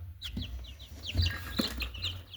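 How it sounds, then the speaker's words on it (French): A small chick peeps in high, quick chirps among clucking chickens in a backyard coop, the calls close and moderately loud over a low background hum. "petit poussin"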